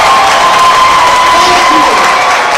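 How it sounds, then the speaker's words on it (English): An audience at a university medical faculty graduation and oath ceremony in Mbarara claps and cheers in a loud, continuous wash of crowd noise, with a sustained tone running through it. "Clap, clap, clap. You're clapping for your parents who are sacrificing a lot."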